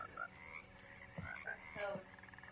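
A frog croaks in the swampland of the video game Alone in the Dark, several quiet, uneven croaks and chirps close by against a faint ambient background.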